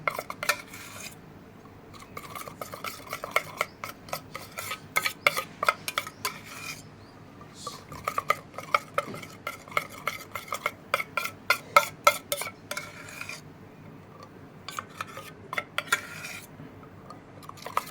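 A spoon clinks and scrapes rhythmically against a bowl while coffee powder and yogurt are mixed into a face pack, close and fairly quiet, in bursts of quick strokes separated by short pauses.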